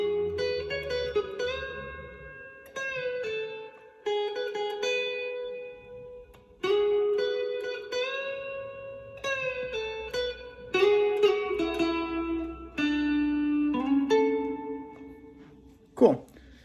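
Electric guitar plays a song's solo passage in phrased bursts of sustained notes and slides, clear and close, with no talking.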